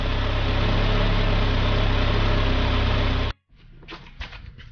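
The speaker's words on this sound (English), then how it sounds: "so we just let this thing idle" A Saab 9-5 with about 200,000 miles on it idles loudly and steadily up close. Its dense, even rumble cuts off abruptly near the end, leaving faint room noise.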